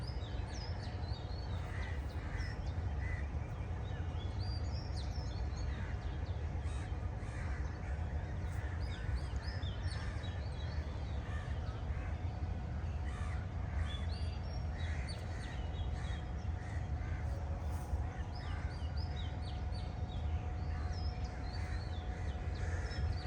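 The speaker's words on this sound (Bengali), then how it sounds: "পাখির ডাক আপনারা শুনতে পাচ্ছেন" Crows cawing and other birds calling in Ramna Park, steady and continuous over a constant outdoor background hum, with many overlapping calls at varying distances.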